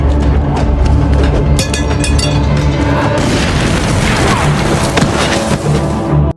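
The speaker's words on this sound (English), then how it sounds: "The sound of the explosion was heard by Elsa" A loud, booming explosion in a wartime film scene rumbles heavily with dense crackling debris for several seconds before cutting off abruptly.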